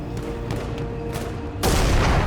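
Battlefield V gunfire: scattered distant shots crackle for a moment, then a loud, dense burst of close fire and blasts erupts and carries on. No voices are heard.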